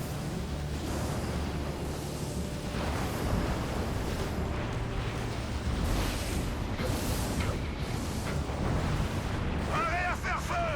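A giant mecha's main cannon fires in the video game Enslaved, heavy booming blasts and rumbling bursts over dense sustained noise, with someone talking over the game sound throughout.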